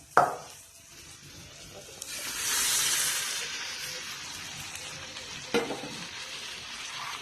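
Steady frying sizzle with stirring, a burst of louder hissing as boiled Chinese potato (koorka) hits the hot masala pan, then continued crackling and scraping.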